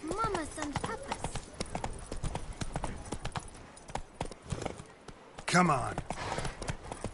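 Hoofbeats of Roach, the horse in The Witcher 3, clip-clop steadily in a quick trotting rhythm throughout, mixed under someone talking over the game.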